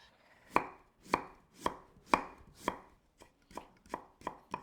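A knife cuts daikon radish into julienne on a board, making ten crisp, evenly spaced chops, loud and close, with no voices.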